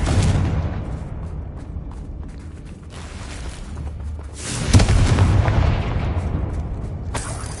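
Bombarda and Confringo spell explosions in a Hogwarts video game: deep, loud booming blasts with rumbling debris and creaks, one big burst near the middle and sustained crashing noise throughout.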